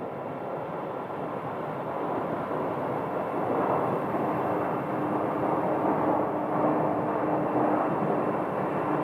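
A Southwest airliner landing on runway 26 at Sky Harbor, heard as a steady, loud broadband jet roar that swells gradually and holds throughout, with no talk.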